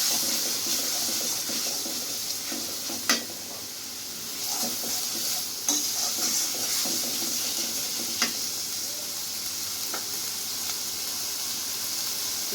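Spices being lightly stirred in a hot pan for a Bengali curry of broad bean seeds and pumpkin bori give a steady close sizzle, with a few soft scrapes and clicks of the spoon.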